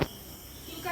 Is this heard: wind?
no